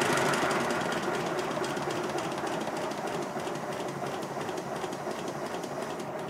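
An old steam locomotive runs in reverse gear, giving a steady rolling rumble with rhythmic clanking and chuffing that stays fairly even and moderately close throughout.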